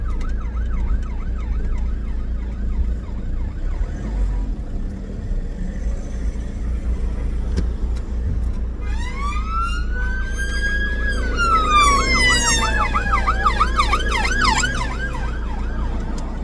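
An emergency siren wails at a distance in traffic, then grows louder and sweeps up and down as the police vehicle approaches from behind, continuous over road noise with no talk.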